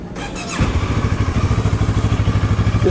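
A CFMoto 650 MT motorcycle engine cranks and catches after a brief starter whirr, then settles into a loud, close, steady idle with an even pulsing exhaust beat and no talking.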